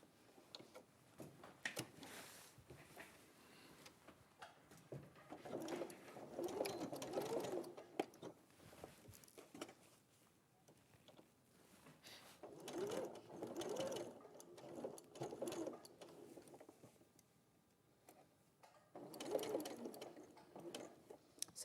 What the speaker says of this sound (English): I'm going to sew all the way along, catching that triangle as I go